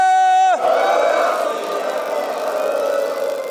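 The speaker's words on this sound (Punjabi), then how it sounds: "ਲਾਟ ਤੇ ਆਪਾਂ ਜਕਾਰਾ ਲਾਉਣੇ ਆ ਸਾਰੇ ਜਕਾਰੇ ਦਾ ਪੂਰਾ ਗੱਜ ਵੱਜ ਕੇ ਸਾਥ ਦਿਓ ਜੀ" A congregation at Gurdwara Bir Jand Sahib, Chamkaur Sahib, roars the Sikh jaikara battle cry in response, the loud massed shout beginning abruptly after a sustained tone cuts off and holding strong throughout.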